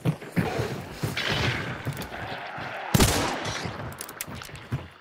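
Gunfire aimed at zombies in the Hunt Showdown shooter game, several sharp shots spread through a busy, rumbling game soundscape, one especially loud blast midway, with faint voices in the background.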